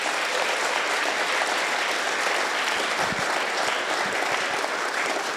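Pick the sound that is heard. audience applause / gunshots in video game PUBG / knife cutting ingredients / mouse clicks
audience applause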